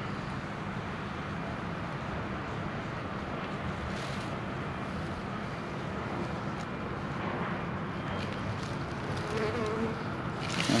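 Honey bees humming at an opened hive during an oxalic acid trickle treatment, a dense continuous drone close by with no talk.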